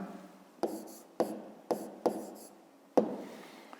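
During a fifth-grade geometry exercise, a pen scratches out writing on paper in about five short, rhythmic strokes, close and fairly quiet.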